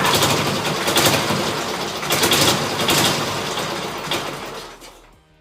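A K-750 flathead motorcycle engine, neglected for 22 years, is started on its battery and runs with a dense, steady rumbling roar close by before fading out at the end.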